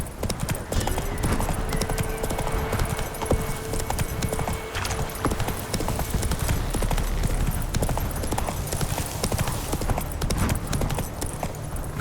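Roach the horse gallops in Witcher 3: Wild Hunt, with a steady, close clip-clop of hooves that runs the whole time over a busy game soundscape. Faint background voices come and go.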